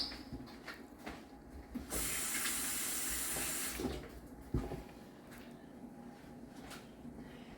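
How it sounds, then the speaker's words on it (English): Hands rinsed under a running kitchen sink tap, a loud burst of rushing water lasting about two seconds, set among quieter clinks and handling sounds nearby. "Let me rinse my hands off."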